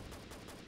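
Rapid gunfire from a firing squad in the PC shooter CTU: Counter Terrorism Unit, a dense, loud burst of overlapping shots across a very brief moment, with no voices.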